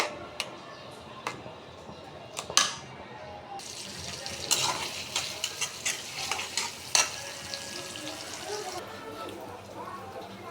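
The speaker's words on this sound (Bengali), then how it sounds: "আজকে সবাই ইফতারিতে নুডলস খাবে, তাই যে নুডলস রান্না করতেছি।" Four packets of noodles stir-fried directly in a pan for iftar, a close sizzle with repeated scraping and clinking of a spatula against the metal, irregular knocks throughout.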